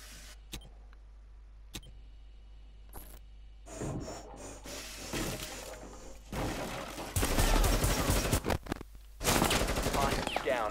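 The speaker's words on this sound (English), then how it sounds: "And you can start shooting." Gunfire in Rainbow Six Siege, the tactical shooter game, starting as scattered single shots and building into loud, dense bursts of rapid fire in the second half, with no talk over it.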